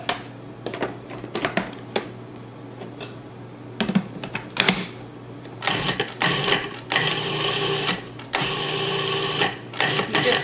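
A food processor blends granulated sugar, baking powder and salt in short pulsed bursts: choppy whirring spurts, first brief and clicky, then longer grinding runs near the end.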